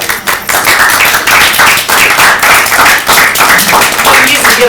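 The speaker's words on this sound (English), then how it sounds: "We usually get applause from clients." Small group in a room claps after a presentation, loud, close and uneven, with short rhythmic bursts over a few seconds and brief gaps between them.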